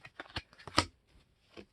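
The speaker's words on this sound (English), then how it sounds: "So if you want to shuffle this up" A deck of Deck of Many Things playing cards being shuffled, a quick run of papery riffling and flicking bursts, close and alone with brief pauses between strokes.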